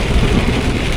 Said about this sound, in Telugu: బెంగళూరు నుంచి హైదరాబాద్ వెళ్తుంటే ఫుల్ వర్షము, అసలు ముందర ఏం కనిపిస్తలేదు.